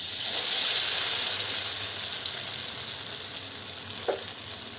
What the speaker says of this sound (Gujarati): તેલ ગરમ થઈ ગયું છે, હવે આપણે આમાં ફ્રાય કરવા રાખી દઈશું.